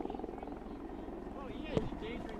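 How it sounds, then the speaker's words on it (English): A helicopter hovers close overhead above a rescue on frozen Lake Michigan, a steady throbbing rotor drone running under a reporter's voice throughout. "The helicopter's a little close here."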